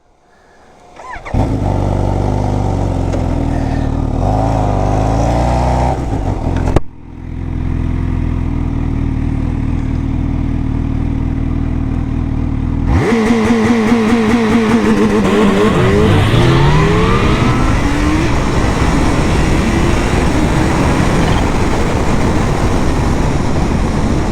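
A Kawasaki H2 motorcycle starts up, idles and then launches hard with launch control, the engine revving and rising through rapid gear changes, loud and close with no talking.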